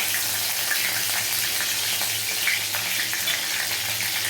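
Bay leaves and whole garam masala fry in hot oil in a kadai, giving a loud, steady, close-up sizzle that crackles without pause and has no talking over it.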